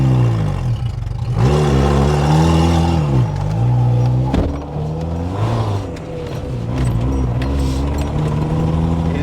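An ARO 4x4's engine revs hard off-road, loud and close, its pitch rising and falling as the throttle is worked, with a brief dip in the middle before it climbs again.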